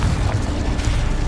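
A Confringo spell explosion in the game Hogwarts Legacy: a dense, loud low-end boom and rumble that fills the short moment without a break.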